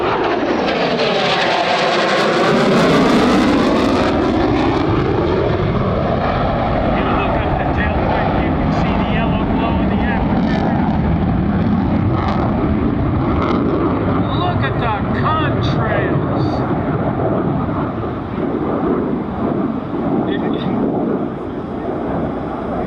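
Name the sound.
F-35B Lightning II jet at an airshow demonstration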